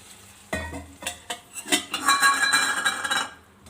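Water is poured into a pan of broken Maggi noodles with masala, sending up a burst of sizzling, while a utensil stirs and clinks against the pan in uneven scrapes, close and fairly loud.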